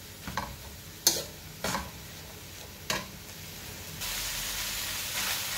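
Meat frying in its own fat in a pan for lasagne, a quiet ongoing sizzle broken by several sharp scrapes and knocks of stirring, the sizzle swelling louder near the end.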